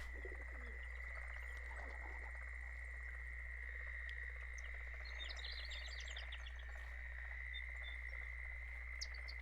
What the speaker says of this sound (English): them frogs starting to get on my nerves